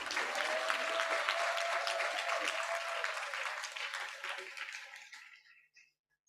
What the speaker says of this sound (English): Another round of applause to Emma, please.